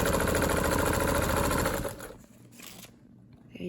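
A vintage cam-driven Brother zigzag sewing machine stitches in a fast, even mechanical whir for about two seconds, then stops, leaving quiet handling noises.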